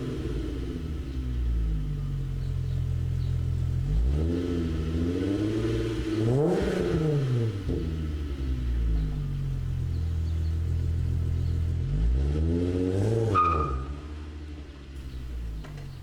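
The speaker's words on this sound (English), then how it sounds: "here you can hear the MagnaFlow exhaust." A 1998 Volkswagen Golf GTI VR6 with a MagnaFlow exhaust idles with a deep rumble, then revs up and falls back twice, alone and close by.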